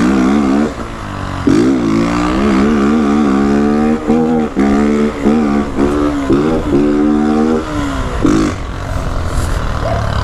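A 2022 Honda Titan 160 motorcycle fitted with a loud aftermarket exhaust revs hard and close, the engine note climbing and dropping in repeated throttle blips with crackling roughness.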